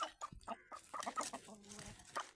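A hen clucks in a short, quiet series of soft, choppy calls near a breeding rooster in a cage, with no voices over it.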